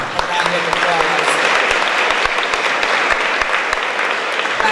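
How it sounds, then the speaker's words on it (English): Audience at a radio station's 20th anniversary gala breaks into sustained applause, dense even clapping filling the room throughout, loud and near with a few sharp individual claps standing out. "Please give Rico a round of applause."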